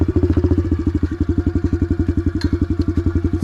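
A 2022 Honda CRF110 motorcycle engine with a loud aftermarket exhaust idles close by, a rapid, even chain of deep punchy pulses that stays steady and strong from start to finish.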